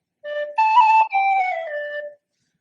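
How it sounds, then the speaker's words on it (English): A tin whistle plays a short, slow phrase of a few sustained, clear notes with a brief pause between them, then falls silent. "She doesn't like the tin whistle."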